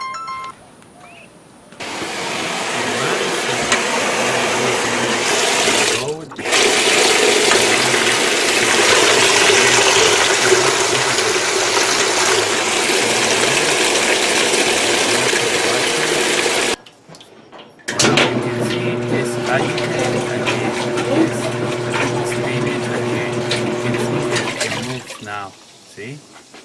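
A Whirlpool washing machine with a newly replaced motor coupler runs loudly and steadily, with watery sloshing. It stops briefly twice, then restarts with a humming motor tone, and a voice talks over parts of it.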